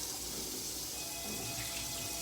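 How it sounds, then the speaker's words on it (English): Kitchen tap water runs steadily into a sink while mashed potatoes are being prepared, a continuous even hiss with no pauses and no talking over it. "Let me run the water to get started for my mashed potatoes as well"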